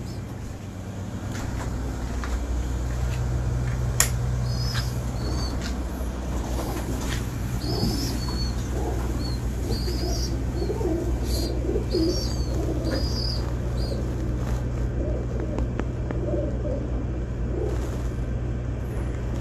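Pigeons from a pigeon pair give soft, repeated cooing calls at moderate distance, with a low steady rumble of traffic underneath and no talking.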